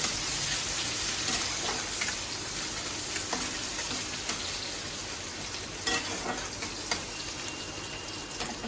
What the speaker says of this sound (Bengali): একটু জিরে ফোড়ন দেবো, একটু পেঁয়াজ কুচি দিয়ে দেবো